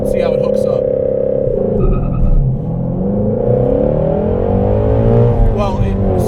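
A Ford Shelby GT350 revs hard for a first-gear launch, the engine note holding high before dropping and climbing again as the car pulls away, loud and close, with a voice speaking over it.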